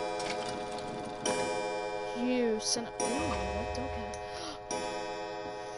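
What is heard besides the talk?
clock pendulum ticking in the video game Resident Evil 7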